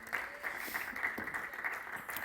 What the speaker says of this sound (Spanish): Podemos dar un fuerte aplauso a la gloria del Señor.